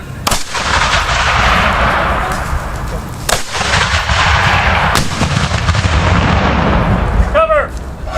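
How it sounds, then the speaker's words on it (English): Reenactment artillery battery firing cannons at a Civil War battle reenactment, with several loud booming blasts spaced a few seconds apart, each followed by a long rumbling roar that carries across the field. "Battery, make ready. From the left, 2-second interval."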